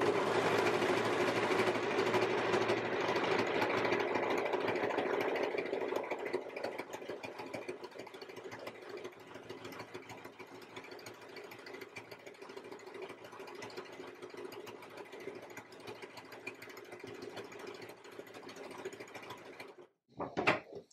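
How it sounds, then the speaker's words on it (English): A sewing machine stitches along a seam on a reversible one-shoulder top, a fast steady mechanical whir that slows and softens midway, then stops with a few clunks at the end. "Place that under my needle, and now I'm literally just going to follow along that seam."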